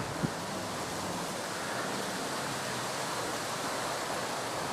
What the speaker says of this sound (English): It is very windy too, by the way.